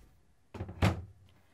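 Hanging cabinet doors with acrylic panels in a 2020 travel trailer close in two quick thunks, the second louder, sharp and close in a quiet interior.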